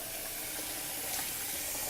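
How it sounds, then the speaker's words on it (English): Hot but not boiling water pours steadily into a canning pot during a jam canning class, making a continuous close hiss and rush with no break. "So we're going to add some hot water that's not boiling hot water."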